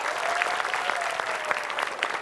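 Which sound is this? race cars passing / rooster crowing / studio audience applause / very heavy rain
studio audience applause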